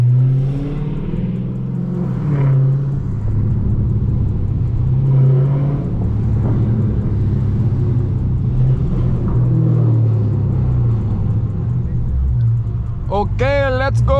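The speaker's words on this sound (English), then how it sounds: "I hope you guys hear those burbles" A 1000hp Dodge Hellcat engine rumbles deep and loud while driving, burbling and swelling with throttle changes throughout, with a voice briefly heard near the end.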